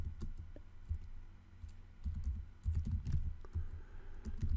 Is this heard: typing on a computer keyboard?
yes